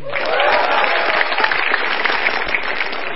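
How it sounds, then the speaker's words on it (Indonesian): A stand-up comedy audience breaks into loud, sustained applause, a dense wash of clapping that holds steady for a few seconds with no talking over it. "Tepuk tangan untuk Jui."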